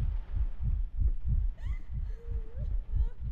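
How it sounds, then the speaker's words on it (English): A slow, heavy heartbeat thumps steadily in the Layers of Fear video game, low muffled double pulses repeating under faint eerie tones. "Freaking heartbeat."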